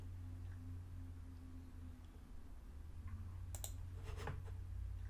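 A few sharp clicks of a computer mouse, close by and fairly faint, bunched near the end over a steady low hum, with no talking.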